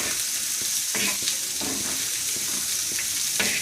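Masala and goat trotters roast in a pan for a village-style handi, with a continuous close sizzle broken by repeated scraping stirs.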